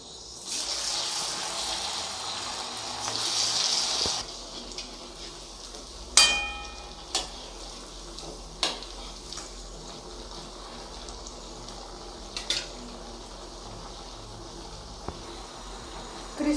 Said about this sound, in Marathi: आता आपण साबुदाणा वडा तळून घेऊ।